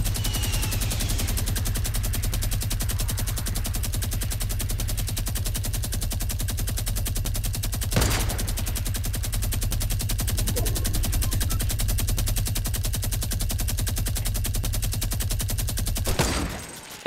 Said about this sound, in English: let me shoot it down real quick